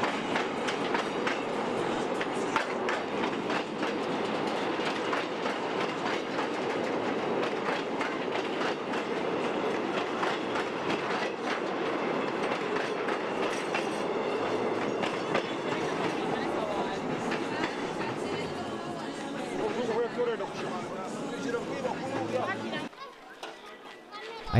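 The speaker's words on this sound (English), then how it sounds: "A freight train is coming, and the people move off the tracks" A long freight train rolls past in a Kampala slum with a continuous rumble and rhythmic clickety-clack of wheels, people chattering faintly nearby, before the noise suddenly drops away at the end.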